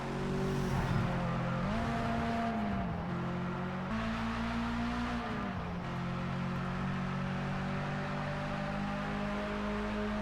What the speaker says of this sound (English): Oh, that's a nice drift right there.